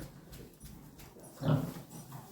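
A pig in a farm shed gives a loud, close grunt about midway through, set against quieter rustling and faint animal noises.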